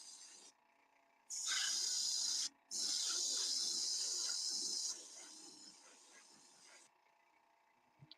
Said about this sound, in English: Look at that great spray coming out.